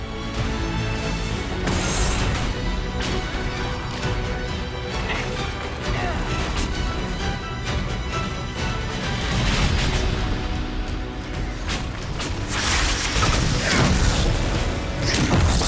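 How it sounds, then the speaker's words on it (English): Explosions and combat in the video game Dragon Age Inquisition sound as repeated heavy booms, crashes and clanking hits in a dense, continuous battle din that swells louder toward the end. "can't hear you under the explosions"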